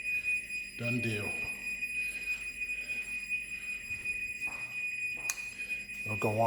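MyQ garage door opener alarm: a steady high-pitched electronic alert tone sounds throughout, with brief rattles and knocks around it in a garage.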